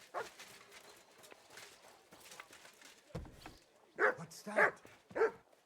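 Dog barking in the video game Kingdom Come Deliverance 2, three short sharp barks near the end following quieter shuffling and rustling, with a brief voice speaking.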